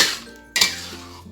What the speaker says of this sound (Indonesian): Lalu kita aduk hingga rata.